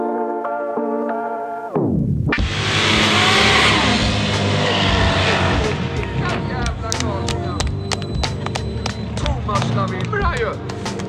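A four-wheel-drive Volvo 244 fitted with a Lamborghini V10 starts up and roars loudly on a track, its engine revving hard and holding a dense, powerful howl with sharp crackles and pops throughout.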